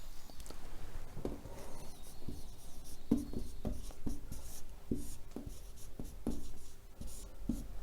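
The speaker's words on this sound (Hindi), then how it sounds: "लिखते हैं बच्चों बछेंद्री पाल" Someone writes an answer on a board, making a run of short, close scratching and tapping strokes in an irregular rhythm. The strokes are heard alone, with no speech.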